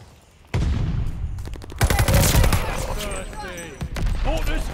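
Allied mortar fire in a Call of Duty battle on the Demyansk map, a sudden loud onset followed by repeated booming blasts and crackling combat noise, with a voice calling out over the din.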